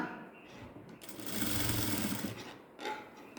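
A sewing machine stitching the folded hem of a ladies' straight pant runs in a close, steady mechanical whir that swells into a sustained burst mid-stretch, then drops and briefly restarts.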